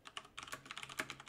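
Quick bursts of keystrokes on a computer keyboard, a dozen or so faint close clicks in an uneven rhythm over a short moment.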